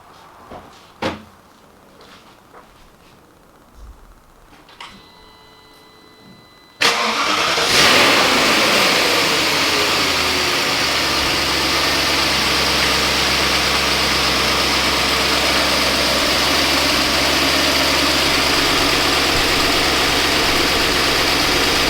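A 2001 BMW E38 740i is cranked over, the starter whirring briefly before the engine catches with a loud surge, then settles into a steady, close, continuous idle that runs on alone with no talking.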